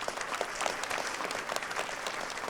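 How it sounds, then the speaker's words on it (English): An audience at an evening event on yoga for multiple sclerosis claps for the sponsors, a dense, even wash of applause from a seated crowd throughout, with no voices over it. "Let's give all of our sponsors a round of applause"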